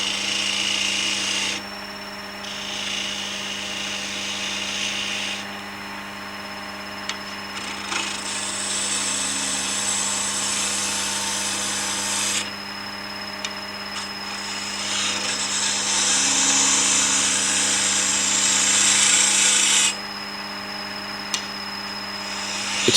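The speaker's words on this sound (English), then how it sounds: "To start with, we need to hollow out a piece of wood. A spindle gouge makes light work of this." Steady hum of a wood lathe under a spindle gouge hollowing out a piece of wood, with a rough scraping hiss that swells and drops as cuts begin and end, close and continuous, no speech.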